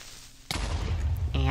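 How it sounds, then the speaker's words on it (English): A Minecraft creeper explodes in a single sudden burst that erupts mid-clip and stays loud and rumbling afterward, with a voice close by. "Explosions."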